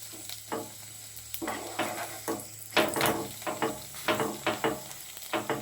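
A paratha cooks in oil on a hot pan, giving a steady close sizzle broken by irregular scraping and stirring bursts as it is turned and pressed, with no voices.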